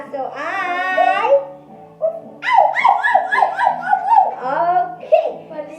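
A child imitates a dog's barking with a string of short, voiced yaps in a playful animal-sounds game, close and clear, with other voiced sounds just before.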